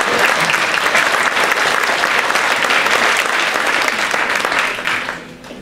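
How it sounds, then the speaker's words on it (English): Audience applause at a Saturday afternoon plenary session of a 2012 assembly, dense and steady clapping from a large crowd that holds loud for about five seconds, then thins and fades near the end. "Can we clap?"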